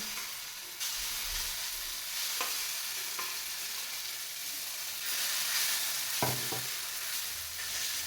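Paratha stuffed with capsicum frying on a hot pan, giving a steady sizzle and hiss throughout with a few soft scraping and stirring touches, close and alone with no voices.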